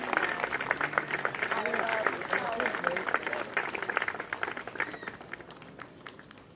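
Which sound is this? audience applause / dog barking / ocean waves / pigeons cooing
audience applause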